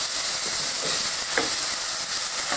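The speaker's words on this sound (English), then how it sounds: "obviously sizzles more because the peppers are quite watery" Watery, freshly prepped peppers frying in a pan give off a steady, loud sizzle with a faint crackle, continuous and close, with no voices.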